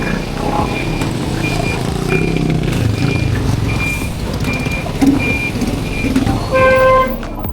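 Congested evening street traffic with repeated car horn toots sounding at intervals over a constant engine rumble, ending in a louder multi-tone honk.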